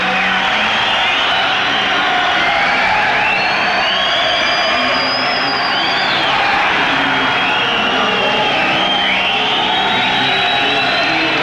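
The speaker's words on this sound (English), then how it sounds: "Yeah, this is what I call a fanatical crowd." A boxing crowd roars continuously and loudly in an arena, with whistles and rising shouts layered over a dense, unbroken wall of cheering.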